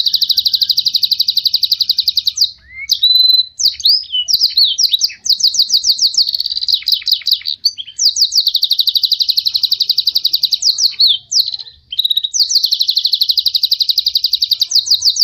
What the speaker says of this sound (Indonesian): itulah tadi lagu Blacken yang koslet